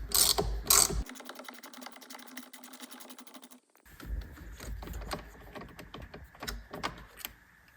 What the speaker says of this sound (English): Now we're going to switch to a ratchet because we're going to loosen this bolt.